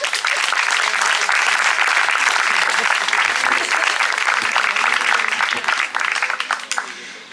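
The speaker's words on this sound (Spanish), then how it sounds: "Un aplauso." Loud, sustained audience applause at an award ceremony in Alcalá de Henares, fading toward the end.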